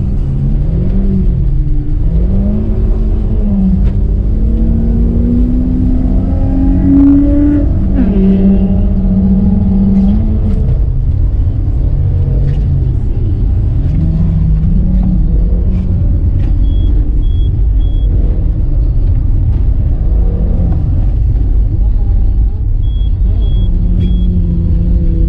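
An old Ford Escort rally car runs on the Marinkainen ice track, its engine a steady rumble with rising and falling revs that stay close and loud throughout, with no one talking.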